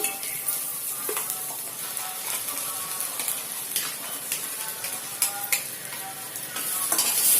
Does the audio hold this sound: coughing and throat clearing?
no